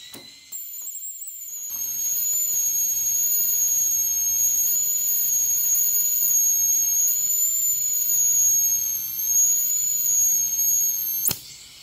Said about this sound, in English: as soon as you lift up, we're going to be TIG welding here